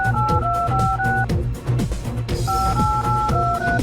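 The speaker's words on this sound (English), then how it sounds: "It is ringing." A phone dials with a quick run of electronic touch-tone beeps, then repeated two-tone ringing pulses sound close and clear, with backing music underneath.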